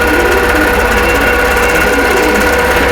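A sewing machine runs steadily at close range, stitching across a Crown of Thorns quilt block in one continuous, even mechanical whir with a rapid rhythmic needle chatter and no pauses.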